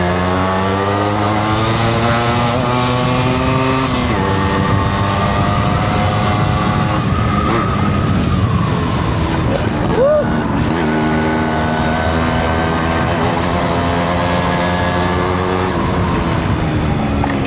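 A Yamaha RX100 100cc two-stroke motorcycle is ridden through Bangalore, its loud, buzzing engine droning steadily up close, with pitch sweeps and brief dips near four and ten seconds as it shifts and changes speed.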